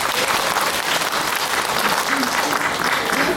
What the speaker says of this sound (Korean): 송영건 의원님께도 큰 박수 한번 부탁드리겠습니다